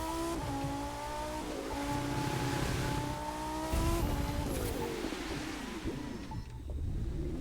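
An Italian Lamborghini in The Crew 2 racing game drives with a loud, steady engine drone whose pitch climbs through repeated gear changes before it eases off, with wind and tire noise underneath and no talking.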